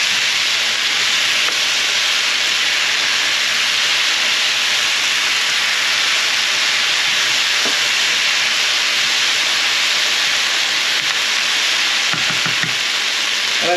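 Steady, loud, unbroken sizzle of oil hitting seasoned chicken thighs in a pan, a dense frying hiss with no talk over it.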